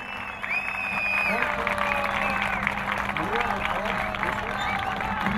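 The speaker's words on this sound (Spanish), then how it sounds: "Más fuerte el aplauso para nuestro amigo Jorge Yáñez" An audience applauds at a Chilean Fiestas Patrias celebration, the Fiesta de la Chilenidad in El Arrozal, sustained clapping from a crowd with whistles and someone speaking over it.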